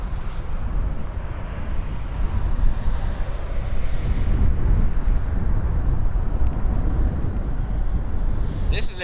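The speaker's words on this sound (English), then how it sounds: "FedEx coming in from Memphis MD-11, we'll see that land" An FedEx MD-11 cargo airliner inbound from Memphis on approach to land at Toronto Pearson at night, a steady low broadband roar with wind buffeting the microphone throughout, rising slightly in the middle.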